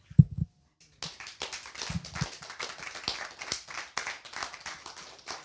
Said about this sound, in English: thank y'all for applauding